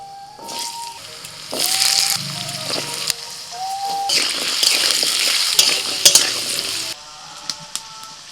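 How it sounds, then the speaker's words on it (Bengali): Potatoes dropped into hot oil with dried red chilli and Bengali five-spice seeds, a steady close sizzle that surges loudly partway through and crackles on, with a few metallic stirring knocks and no voices. "শুকনো লঙ্কা, 5 ফোড়ন, দিয়ে দিচ্ছি আলু।"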